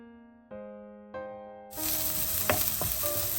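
Onions with dried red chillies and green chillies frying in a pan for a cowpea dish: a steady loud sizzle bursts in partway through, after quieter tones, with a few sharp clinks over the hiss and no talking.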